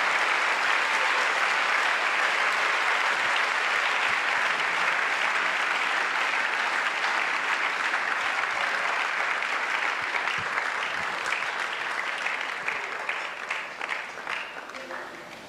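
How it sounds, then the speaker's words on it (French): A church congregation at an evangelistic and deliverance crusade in Douala claps together, a dense, sustained roar of applause from a large crowd, loud and steady before gradually thinning toward the end. "Let us clap for Jesus Christ."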